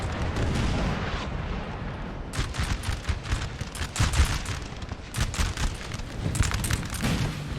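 Artillery and musket volleys roar through a Napoleonic battle in Napoleon Total War, with repeated booming blasts and crackling fusillades over a constant rumbling din, loud and close, with no talking.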